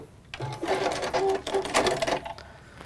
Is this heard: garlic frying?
no